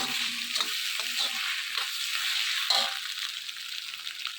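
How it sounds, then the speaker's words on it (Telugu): Ingredients for egg fried rice fry in a hot pan with a steady, close sizzle and repeated scraping stirs, alone without talk. "ఈ విధంగా మొత్తం పచ్చివాసన పోయేంత వరకు వేయించుకోవాలి"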